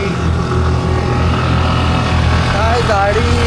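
A rented motorbike rides a smooth, winding hill road near Oslob, Cebu, its engine droning steadily and loud throughout, with wind rush and talking voices mixed in.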